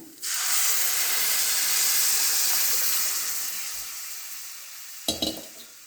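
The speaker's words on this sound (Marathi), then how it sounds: "मिक्स करून घेऊ खीर थोडेसे शिजवून घेऊया" Rice kheer with milk cooks in a pot, a loud, steady steaming hiss and sizzle that slowly fades, then a short scrape and clatter of stirring near the end.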